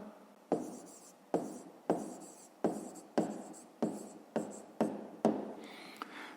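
A pen scratches out a fifth-grade maths answer in a regular series of about ten short, sharp strokes, close and clear, with no talking over it.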